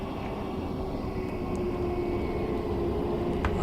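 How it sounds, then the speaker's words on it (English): A train passes on the Harlem Line in Train Sim World 3, heard as a steady, loud rumbling roar with a faint tonal whine held throughout, no speech over it. "Oh, there's another train as well."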